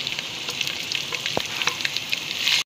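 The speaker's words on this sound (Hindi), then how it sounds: "दो मीडियम साइज के प्याज स्लाइस करके इसके अंदर डाल के इसका कलर चेंज कर रहे हैं" Two medium sliced onions frying hard in hot oil with whole garam masala, a steady dense crackling sizzle with a brief stir scrape midway, close and continuous.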